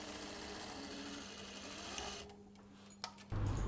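Sewing machine stitching seams of a cashmere jacket, a close, steady buzzing run that halts partway, then a click and a low hum.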